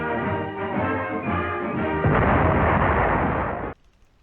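A WW2 jeep-mounted recoilless rifle fires with a heavy, sustained booming roar that swells into a rough blast, then cuts off abruptly, leaving a faint tail.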